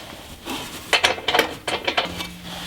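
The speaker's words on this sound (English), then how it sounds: "I'll take a washer, put it over that. And finally the nuts" A washer and nuts being fitted by hand onto the bolts of a JcrOffroad rear bumper on a Jeep XJ: a close run of light metallic clicks and scrapes, a few quick taps in a row, with no talking.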